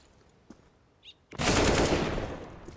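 Gunfire in Counter-Strike: Global Offensive during a pro match between Fnatic and MIBR, with a couple of faint ticks followed by a loud, dense burst of automatic fire that fades out.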